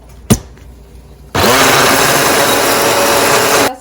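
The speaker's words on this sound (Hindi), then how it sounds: "इसको ग्राइंड करेंगे।" Electric kitchen grinder blending chutney with cumin, garlic and salt: a sharp knock, then the motor starts and whirs loudly and steadily for a couple of seconds before cutting off, nearby and alone.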